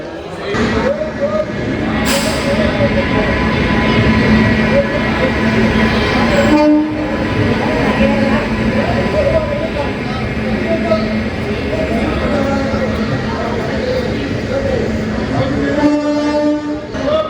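The Mahakoshal Express rolls into Agra Cantonment railway station with rumbling carriages and clanking wheels, a horn blast sounding near the start, while someone talks over the din.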